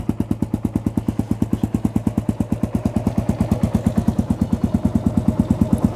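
A carbureted 2017 Kawasaki KLR650 single-cylinder motorcycle engine idles cold, a steady, even thumping beat at a quick regular rhythm, close and loud with a slight rise in pace.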